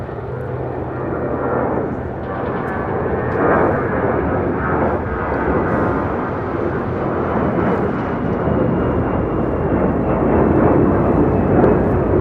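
An American Airlines Airbus A321 takes off from LAX, its jet engines producing a loud, sustained broadband roar that swells and holds for the whole stretch, with no talking.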